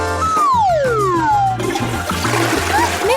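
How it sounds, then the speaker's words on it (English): A toilet flushes with a loud, continuous rush and gurgle of water that fills the whole stretch, and a descending whistle-like tone sweeps through it early on. "why would you flush it?"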